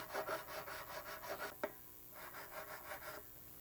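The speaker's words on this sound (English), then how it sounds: "fret crowning file because I don't want to remove too much material, and this thing actually does a really good job." A fret crowning file worked over the frets of a Squier Affinity Stratocaster guitar, giving close, rhythmic rasping strokes in two runs separated by a brief pause and a sharp tap.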